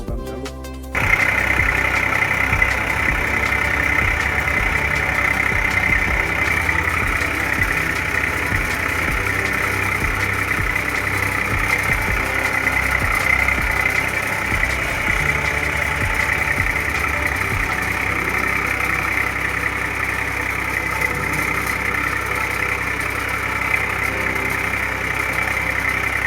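A tractor pulling a tooth harrow across a farm field, its engine running at a steady, loud drone with constant low rumble and vibration throughout, no voices.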